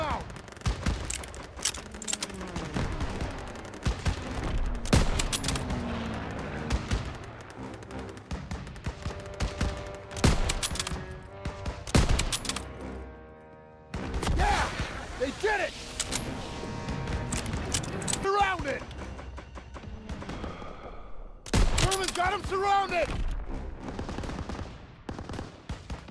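Rapid rifle and machine-gun fire in Call of Duty WWII, dense bursts and single shots crackling through a chaotic battle with shouted voices and explosions mixed in.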